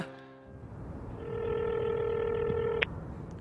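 A telephone sounds a steady electronic ring tone, one sustained tone that starts about a second in and holds for nearly two seconds. It is fairly clear over a low room hum, with a brief sharp click as it cuts off.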